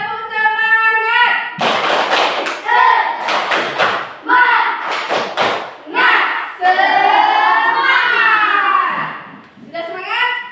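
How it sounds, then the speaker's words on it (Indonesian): A class of Indonesian schoolchildren performs a rhythmic clapping chant, with sharp bursts of group claps alternating with their loud sung and chanted voices, close and lively. "Kita tepuk semangat sekali."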